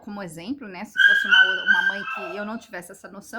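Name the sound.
dog barking and whimpering in the room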